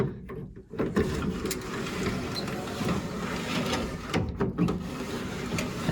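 Manual window crank on a 1968 Mustang rolling the glass up smoothly, a short run of mechanical whirring and ratcheting clicks close by, with a brief knock near the start and another near the end.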